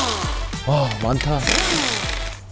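A power tool buzzes in short rattling bursts as it removes bolts from a car engine during an engine swap for an oil leak, with people talking in between.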